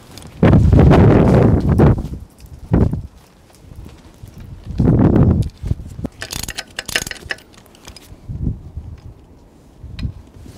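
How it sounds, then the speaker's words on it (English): Gusts of wind blow around a large outdoor bandsaw mill being built, buffeting the microphone in loud low rumbling surges, with lighter rustling and faint knocks between the gusts. "that's the wind blowing the sawmill away."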